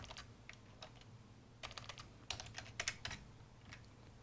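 Keys clacking on a computer keyboard during data entry in accounting software, quiet irregular bursts of typing with short pauses and a low steady hum underneath.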